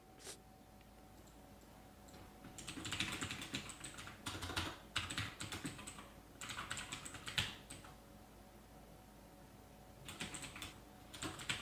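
Keys clatter on a computer keyboard in several quick bursts of typing, faint and close, separated by short pauses.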